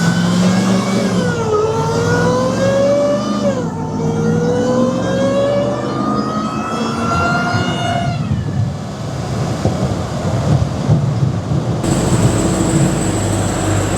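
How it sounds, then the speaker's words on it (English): A Ram TRX pickup truck engine revs up twice with rising pitch while parking, then settles into a rough, rumbling idle nearby. "Weasel Boy, or Garen, is parking the truck for us."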